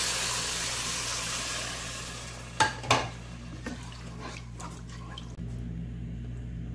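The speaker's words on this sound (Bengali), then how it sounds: "আমি গরম পানি দিয়ে দিচ্ছি" Hot water poured into fried masoor dal in a cooking pot, giving a couple of sharp splashing hisses followed by steady bubbling and sizzling, close and moderately loud.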